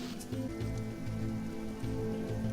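Steady rain falls in the survival game Sheltered, a dense continuous patter of drops on a surface, even and moderately loud throughout with no talking.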